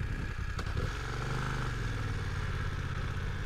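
Motorcycle engine in a crime-themed video game, a steady mid-pitched drone with a brief clatter near the start, loud and continuous throughout, with no talk over it.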